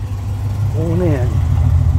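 A classic car idles low and close as it pulls in, its steady rumble running under a person's brief vocal exclamation.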